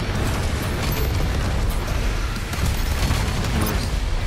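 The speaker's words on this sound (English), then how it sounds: "Two BFG shots." BFG shots in Doom Eternal on Nightmare difficulty erupt into a loud, sustained wall of roaring blasts and crackling bursts that stays dense and unbroken throughout.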